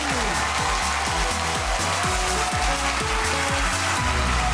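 A studio audience on the Family Feud Cambodia game show claps and cheers for the host, a dense, loud wash of applause over a thumping musical beat.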